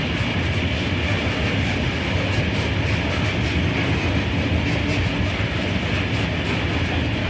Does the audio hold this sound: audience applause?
no